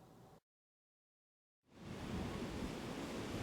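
Huge typhoon-driven ocean waves, up to 12 m, pound the east coast of Korea during Typhoon Maysak; a burst of surf cuts to brief silence, then loud, continuous crashing roar returns close up.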